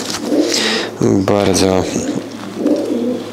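Pigeons coo close by, from a prized breeding pair of racing pigeons, their soft throaty calls repeating under someone talking throughout.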